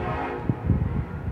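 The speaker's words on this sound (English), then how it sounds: "I also hear a train." Train rumbling past near a rail yard by a harbor, a low, fairly quiet mechanical rumble with brief thumps and a faint horn-like tone, heard from some distance.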